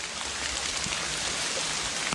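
Steady rain falls outdoors in a forest while mushrooms are being gathered, a dense, even hiss of drops hitting surfaces with no voices.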